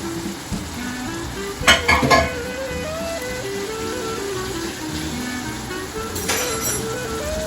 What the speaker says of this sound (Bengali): দেখুন, তেলের মধ্যে বাটাটা ছেড়ে দেওয়া হচ্ছে।